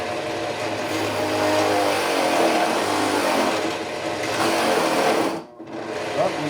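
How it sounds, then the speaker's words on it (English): A Central Machinery drill press with a 1 inch speed bore bit whines and grinds steadily through wood, loud and continuous, then bogs down and briefly cuts out near the end. "Next thing we're going to try is a speed bore bit and see how that goes."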